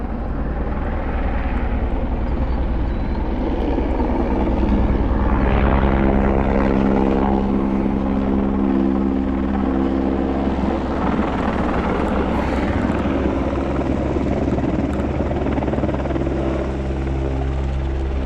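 A helicopter hovers low directly overhead beside Salt Springs Reservoir, its rotor roar loud and constant with a throbbing blade pulse, steady throughout with no speech.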